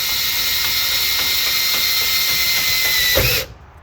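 A power drill tightening a worm drive clamp whirs steadily at close range, its motor whine holding for about three seconds before a clicking ratchet catch and sudden stop.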